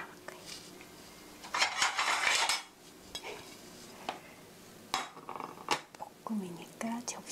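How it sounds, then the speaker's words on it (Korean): Kimchi and pork stir-fry being scooped onto a plate, with metal utensils scraping and clinking against a pan and dish in uneven bursts beneath quiet talk. "볶음이니까 접시에 담겠습니다"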